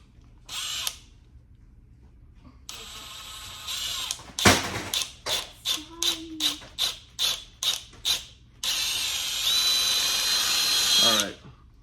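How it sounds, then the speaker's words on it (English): A small drill bit bores a starter hole in a Kawasaki KLX300R grip. A short whir comes first, then a run of about ten quick trigger pulses, then a long steady whining drill run that winds down at the end. "we're gonna start out with a little bit smaller of a drill bit"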